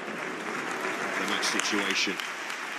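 Stadium crowd at a Belgium v England women's football match applauds steadily while an injured player is stretchered off, a broad continuous patter under a commentator's voice.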